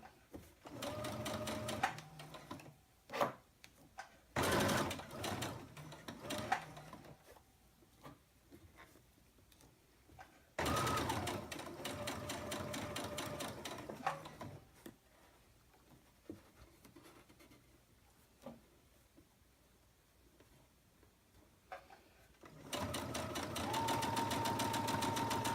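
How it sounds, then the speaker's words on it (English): A sewing machine runs a basting stitch along a wristlet strap in several close bursts of rapid whirring and needle clatter, separated by quiet pauses and soft handling sounds. "I finished with that basting stitch"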